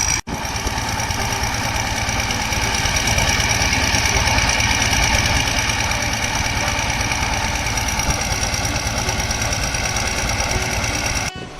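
A steady motor engine runs at a canal flowing into the sea where fishermen work, holding a constant loud, close drone with a knocking, mechanical rattle for the whole stretch and no talk.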